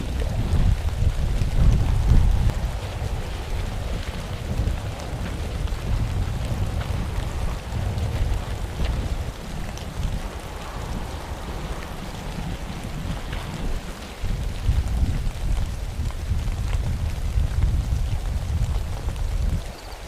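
Steady, rushing wind buffets across an open field for the whole stretch, a dense low roar with gusts rising and falling and no voices.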